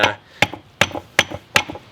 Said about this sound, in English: just slowly rotate it and hammer it out.